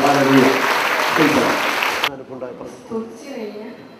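An audience claps in thanks, a dense, loud burst of applause for about two seconds that cuts off abruptly, followed by someone speaking.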